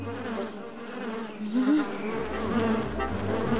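Cartoon bees buzz in a swarm, a close, steady insect drone that swells and wavers for a few seconds.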